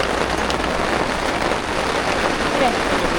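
Steady rain patters down at a flying fox zipline in a garden at Gopeng, Perak, a continuous even hiss that holds at the same level throughout.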